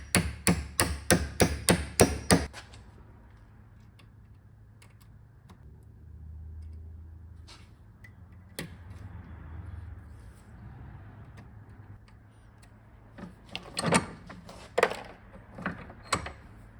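Pressing a bearing into a cantilever suspension part of a classic Mini Cooper in a bench vise: a rapid string of sharp metallic knocks, then quiet handling sounds and scrapes, then another cluster of hard taps, close up.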